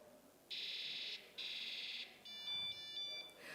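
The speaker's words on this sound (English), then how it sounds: "it can sense that there is a gas leak, and it can immediately generate an alarm" MQ2 gas sensor alarm set off by butane from a lighter at a children's science exhibition, sounding a loud, shrill electronic buzzer in two long steady bursts, followed by a rapid pulsing beep pattern.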